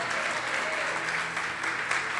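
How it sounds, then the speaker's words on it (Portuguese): Church congregation applauding during a Brazilian evangelical service, a dense steady round of clapping that fills the whole moment at even loudness, with no voices over it. "Pode aplaudir Jesus em forte"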